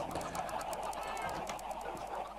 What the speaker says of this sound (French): Ah, oh, on entend les poules.